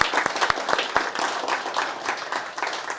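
A conference audience at a Drupal and AI talk breaks into sustained applause, with a few sharp, near claps standing out early over the dense clapping.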